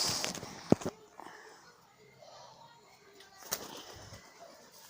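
A pigeon coos softly in a low, murmuring call amid a few sharp taps and handling knocks nearby, fairly faint and close.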